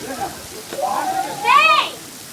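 Steady rain falls on people playing outside in a downpour, a soft hiss beneath loud overlapping voices and shouts that rise and fall.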